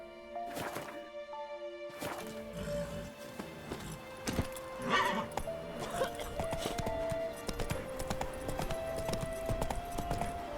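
Roach, a horse in the video game The Witcher 3, gallops with a steady, rhythmic clip-clop of hooves that runs through the whole stretch over a layer of game music.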